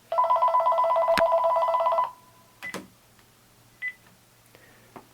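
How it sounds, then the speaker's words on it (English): A telephone rings indoors during a lecture on neurons: a loud electronic warble lasting about two seconds, then a few short, fainter beeps and clicks in a quiet room. "sorry about that, that was the phone."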